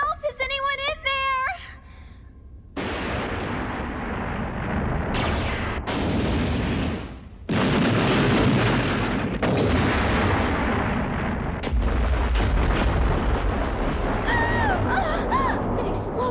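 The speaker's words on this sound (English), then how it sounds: "An explosion!" Cartoon explosions in an animated action scene: a run of loud, sustained blasts and rumbling booms after a brief opening of shouted voices, continuing almost without pause to the end.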